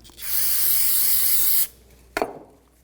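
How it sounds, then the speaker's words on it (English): Brake parts cleaner sprays onto the caliper pins of a 2010-2014 Volkswagen GTI rear brake in one steady, loud hiss lasting about a second and a half, followed by a brief quieter rustle like a rag wiping. "You can use a little brake parts cleaner and a rag."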